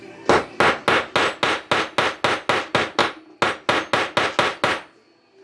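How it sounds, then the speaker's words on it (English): A brass ball peen hammer strikes a metal wire cuff in a steady run of about sixteen sharp ringing taps, with one short pause partway through, loud and close. "I like to use the ball peen side of that brass hammer"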